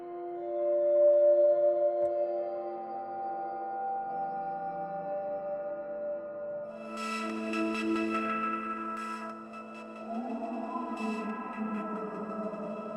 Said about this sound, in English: What this does is it kind of puts a dark kind of reverb onto it.